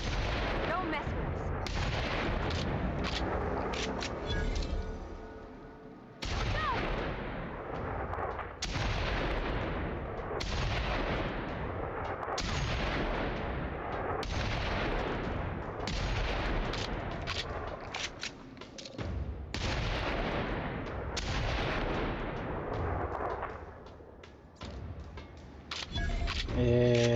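Sniper rifle fire in the video game The Outer Worlds sounds as a string of heavy booming shots with long decaying tails, roughly every few seconds over continuous game sound, with someone talking at times.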